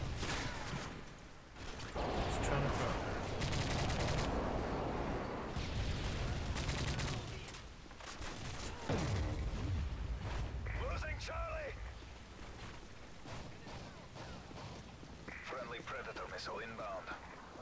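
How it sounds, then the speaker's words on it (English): Ongoing barrage of explosions and gunfire during an airstrike in Call of Duty: Modern Warfare 3, dense rumbling blasts and crackling shots filling the mix, with voices and radio chatter over the top. "Enemy airstrike approaching."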